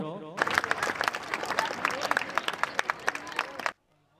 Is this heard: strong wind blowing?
no